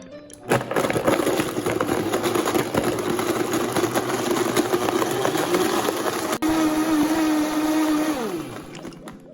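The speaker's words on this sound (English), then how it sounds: "Lid on, let's get this blend going." A blender whirs loudly and steadily as it crushes ice with gooseberries and fresh orange juice into a cocktail, rattling for several seconds before the motor winds down and stops.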